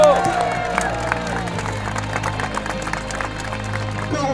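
A crowd applauding and cheering, dense clapping with scattered shouts from a sizable audience, steady and fairly loud throughout.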